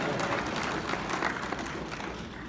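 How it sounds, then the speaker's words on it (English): Audience clapping at a comedy show, a dense wash of applause filling the room, loud and steady with no voice over it. "you're clapping for that, right?"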